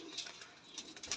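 A pigeon coos softly, faint and somewhat distant, with a low murmuring call under light background noise.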